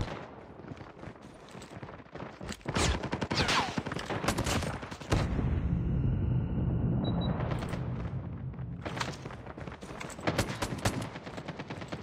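Revolver gunfire in the video game Call of Duty Mobile: a rapid run of loud, crackling shots, then a long roaring, echoing stretch, followed by more clustered bursts of fire.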